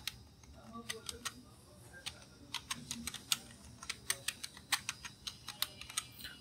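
Computer keyboard keys being typed in quick, uneven bursts of clicks, growing denser and louder toward the end, with no voices.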